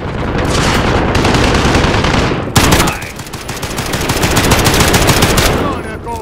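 Heavy gunfire in a Modern Warfare remake video game, dense rapid shots with loud booming blasts, dominant and near throughout, with one sharp louder blast partway through; no talk.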